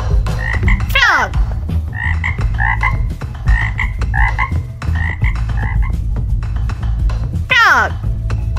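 A jungle chorus of frogs croaking continuously, rhythmic pulsed calls repeating every half second or so with two sharp sweeping calls standing out, loud and close against constant insect and animal background noise.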